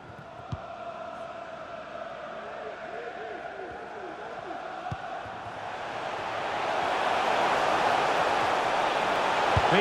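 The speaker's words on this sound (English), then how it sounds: "Being egged on by the crowd" A virtual stadium crowd in EA Sports FC 24 during Brentford vs Arsenal, its steady roar swelling into loud cheering over the last few seconds, with match commentary heard beneath.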